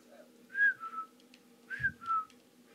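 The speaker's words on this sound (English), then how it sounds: "Whistle for me, Sean." Whistling from a character in the Abe's Oddysee video game: two paired whistled phrases, each a rising note followed by a lower one, clear and fairly quiet over a faint background hum.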